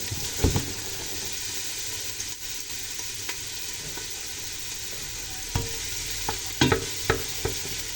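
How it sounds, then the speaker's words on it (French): Onions fry in hot oil in a pan for lasagne, a loud, continuous sizzle heard close up, broken by a few clanks and scrapes of stirring. "je vais y jeter mes oignons. Donc, je vais baisser un petit peu."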